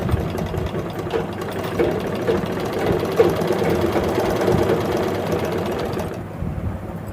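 A sewing machine hums steadily at close range as it stitches a nighty cut from an old saree, running almost continuously before easing off near the end, with no speech.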